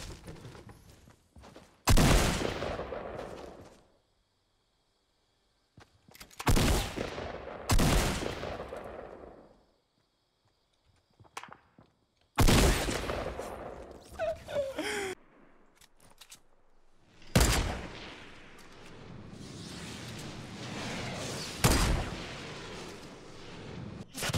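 Gunfire in the video game Fortnite, with loud, sharp shots coming in separate bursts. Quiet gaps sit between them, and a denser volley trails off toward the end.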